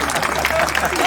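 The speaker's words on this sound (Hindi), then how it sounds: "एक बार जोरदार तालियां इनकी लंबी उम्र के लिए" Audience applause at a Hindi poetry gathering, cheering a couple married sixty years; dense, steady clapping for about a second, fairly loud, with a voice faintly present alongside.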